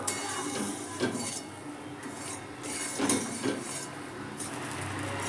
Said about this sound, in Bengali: সবজির সঙ্গেও কিন্তু আমি সুজিটাকে বেশ অনেকক্ষণ ধরে নেড়ে নিচ্ছি প্রায় এক দেড় মিনিট মতো